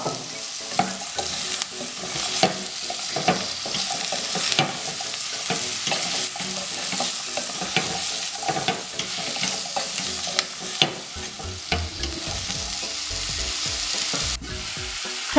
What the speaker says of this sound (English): Now add 300 grams of pumpkin, chopped up into small cube or square-like pieces,